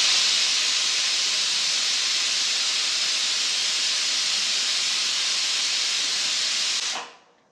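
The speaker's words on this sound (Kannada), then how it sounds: "ಕುಕ್ಕರ್ ಮುಚ್ಚಳ ಮುಚ್ಚಿ 2 ವಿಷಲ್ ಕೂಗು ಬರುವವರೆಗೂ ಮೀಡಿಯಂ ಫ್ಲೇಮಿನಲ್ಲಿ ಬೇಯಿಸಿಕೊಳ್ಳಿ" A pressure cooker of avarekaalu sambar on a medium flame lets out a long, loud, steady steam hiss that cuts off abruptly near the end, with no talk.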